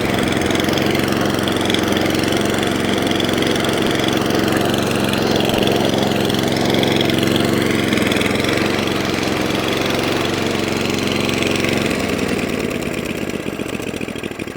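An Atco Balmoral rear-roller lawn mower engine runs close by, a loud, continuous putter with a steady low thrum that roughens slightly near the end.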